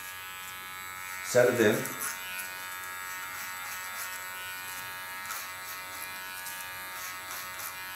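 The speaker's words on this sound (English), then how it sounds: "Now I work the underlines with clipper." An electric hair clipper buzzes close by as it trims along the neckline of an asymmetric pixie bob, a steady hum running beneath a voice that speaks briefly.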